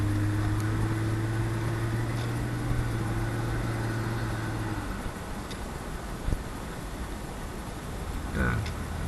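A 2003 Ford Sport Trac truck's engine, running on a fresh tune and 93 octane fuel, hums in a steady low drone with road and cabin noise. The drone fades about halfway, leaving a rough, continuous rumble.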